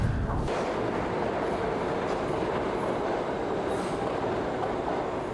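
A New York subway train rumbles loudly and steadily near 103rd Street station, with faint wheel squeals rising above the constant roar and no one speaking.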